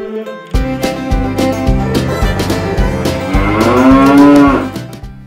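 Cattle low near the sandstone quarry at Furness Abbey, a loud, close moo that swells and bends upward before fading, set over a background of rhythmic low pulses.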